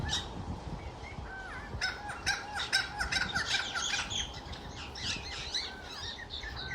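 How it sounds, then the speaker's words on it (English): A busy flock of birds calls outdoors, harsh crow-like caws and squawks mixed with chirps tumbling over one another in rapid, irregular bursts, fairly loud and close against faint background noise. "Very chatty birds today."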